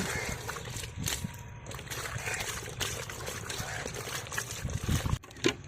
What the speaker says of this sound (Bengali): মাছগুলো এখন ধুয়ে পরিষ্কার করা হচ্ছে